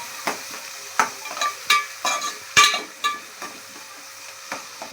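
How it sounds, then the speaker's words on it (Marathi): Onions stirred in a frying pan for a village-style okra dish, with a soft sizzle under a series of distinct scraping and clinking strokes from a spoon or spatula against the pan, close and fairly loud, no talking. "चांगला तो फ्राय करून घ्यायचा कांद्याला"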